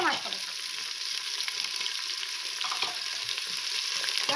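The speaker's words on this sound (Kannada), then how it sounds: "ಇವಾಗ ಬೆಳ್ಳುಳ್ಳಿ ಮತ್ತೆ ಶುಂಠಿ ಹಾಕೊಂತಾ ಇದ್ದೀನಿ. ಇವಾಗ ಇದನ್ನ ಚೆನ್ನಾಗಿ ಫ್ರೈ ಮಾಡ್ಕೋಬೇಕು." Garlic and ginger fry in oil with green chillies in a pan while a prawn biryani is being cooked, giving a steady close sizzling hiss with faint stirring scrapes and no voices.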